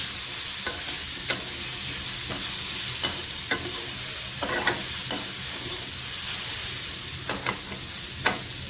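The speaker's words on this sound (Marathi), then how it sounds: "यामध्ये आपलं कोबी चांगलं परतून घेऊया" Cabbage being stir-fried in a pan for vegetable Maggi noodles, a steady close sizzle and hiss broken by repeated scraping, tapping strokes of a spoon stirring at an uneven rhythm.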